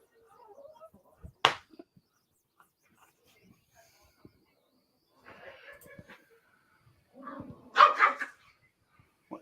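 Pet dogs barking and growling over a dog dish at feeding time: one sharp bark, scattered rustles and small noises, then a louder cluster of barks and growls, fairly close, with faint talk in the background.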